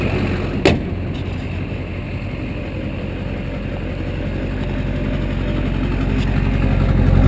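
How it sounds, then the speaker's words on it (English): A Chevrolet Silverado 2500 HD Duramax diesel with an aftermarket cold air intake, intercooler piping and turbo-back exhaust dumping just ahead of the rear wheels runs at a steady idle, a continuous low rumble close by with one brief sharp click early on. "the Duramax runs nice and strong"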